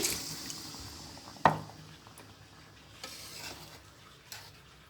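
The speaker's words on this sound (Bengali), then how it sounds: "মাছটা আমার কষানো হয়ে গেছে দর্শক এবার আমি পানি দিয়ে দিচ্ছি" Water is poured into a hot pan of baile fish curry with tomato, setting off a sudden sizzling burst that settles into a quieter simmer with occasional stirring scrapes.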